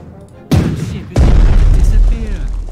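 Naval gunfire in the World War II Pacific strategy game Strategic Mind: The Pacific, two heavy booming explosions in succession, the second louder with a long rumbling tail, loud and close.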